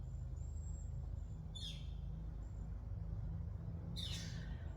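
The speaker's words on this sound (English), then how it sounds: "there are birds." Two short bird calls ring out over a steady low outdoor hum, one faint and one louder, with a thin high whistle in between.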